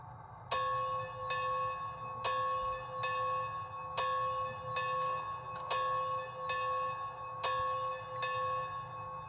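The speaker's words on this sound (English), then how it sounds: "That's pretty much the bell for it." The sound-decoder bell of a Bachmann HO scale 2-8-0 Consolidation model locomotive rings steadily in regular strokes, roughly one clang every second or so, clear and close, with a low rumbling hum underneath.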